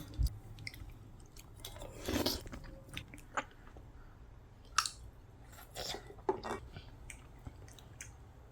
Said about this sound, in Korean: 버들치의 몸통 뼈까지 한번 씹어 먹어볼게요